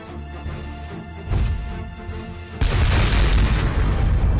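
Cannon counterattack in the Front Mission 4 game at Paris, a sudden heavy boom followed by a loud rumbling blast that sustains to the end, preceded by quieter mechanical impacts.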